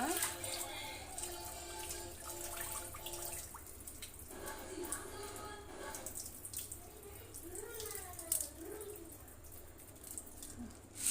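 Water splashing and trickling as grains are rinsed in a bowl, a continuous wet swishing with some drips, close and moderately loud, with faint background voices and bird calls.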